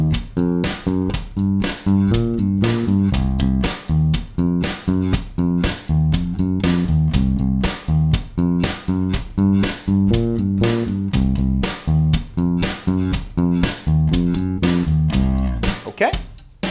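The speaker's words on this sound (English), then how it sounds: "a really simple original riff using that blues scale" Bass guitar playing a simple riff in the C blues scale over a steady drum beat, with a loud, continuous, driving groove of repeated plucked notes and crisp hits that ends abruptly.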